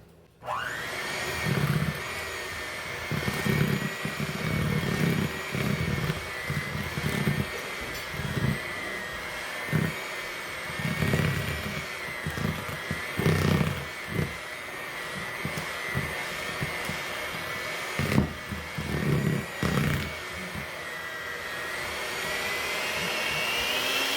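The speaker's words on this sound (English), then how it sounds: "I just increased the speed like that to get the excess dough off my beaters" A high, steady electric whine from a hand mixer running at a raised speed to shake cookie dough off its beaters, with faint rhythmic knocks underneath, heard close and without talking.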